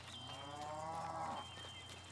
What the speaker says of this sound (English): I hear cows in the distance.